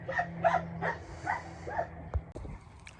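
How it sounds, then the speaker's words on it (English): A nearby dog gives a run of short, whiny barks and yips, evenly spaced, over a low background hum, ending in a few soft thumps. "I'll just have to talk over the dog if he keeps barking."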